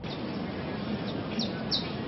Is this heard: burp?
no